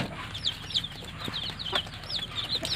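Young RIR chicks and hens on a small farm cluck and cheep while feeding, steady soft chirps and clucks overlapping at close range with faint background noise.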